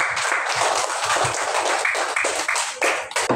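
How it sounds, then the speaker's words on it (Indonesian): Schoolchildren clap together in a classroom during a religious studies lesson, a busy stream of quick, overlapping claps lasting a few seconds, fairly close, with little talking. "Tepuk tangan dulu untuk kita semua."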